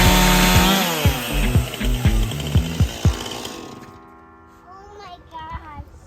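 A saw cuts an old treated power pole, a loud, close whine that revs and bogs in rhythmic pulses for about four seconds, then winds down to a softer idling buzz.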